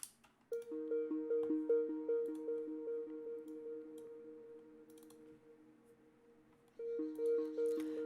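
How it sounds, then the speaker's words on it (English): A plucky synth line of repeating two-note patterns, gritty and distorted, with echoes trailing off into reverb before the riff returns near the end. "Reverb, delay, and hyperdimension, and it sounds like this."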